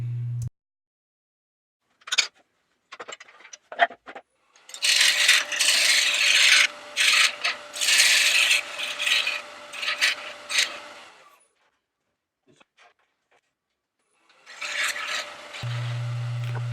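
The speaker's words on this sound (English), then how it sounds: "I now just have to square up the base and make a recess for the C-jaws of my chuck" An oak platter base being squared up on a wood lathe with a negative rake scraper: a steady, close rasping scrape for several seconds, then a quieter pause with light taps before the scraping resumes, no talk.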